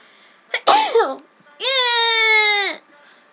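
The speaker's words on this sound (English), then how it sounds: "I have to sneeze." A person's sneeze with a sharp intake and burst, followed by a long, high, strained vocal sound lasting over a second, loud and close with no talking.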